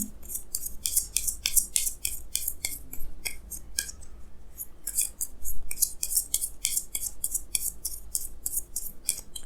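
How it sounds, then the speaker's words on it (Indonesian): Tarot cards being drawn from a deck, giving a steady run of crisp, close papery snaps and shuffling rubs with no talking. "Jadi sini saya akan tarik lagi 2 kartu tambahan ya"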